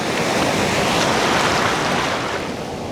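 Ocean surf at New Smyrna Beach rushes in a continuous, loud, broadband wash with no voices, holding steady and easing slightly at the end.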